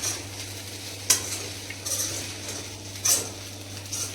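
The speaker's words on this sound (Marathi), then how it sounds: "खिचडी मित्रांनो हलवून झालेली आहे आपली." Khichdi being stirred in a pan with a spoon, with a few scraping clinks against the metal over a soft, steady hiss of cooking, close and fairly quiet.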